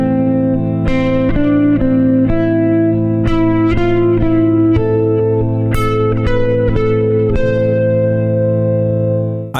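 Electric guitar solo phrase played linearly up the fretboard, each note stepping to an upper neighbor tone then leaping higher, with distortion and reverb; a steady run of about a dozen clear picked notes, loud and alone.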